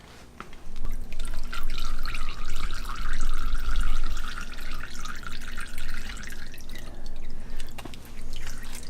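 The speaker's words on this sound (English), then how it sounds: "This thing will dribble all afternoon" Fork oil from a Showa fork off a 2017 CRF450R drains into an oil pan, a continuous close trickle and drip pattering against the metal.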